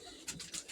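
Pigeons coo softly at a feeding spot, a short faint burst of low cooing notes heard alone.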